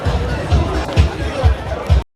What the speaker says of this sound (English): Just a little bit of a crowd